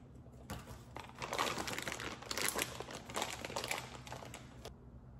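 A small resealable plastic bag crinkles up close, crackling in irregular bursts for several seconds against a quiet room.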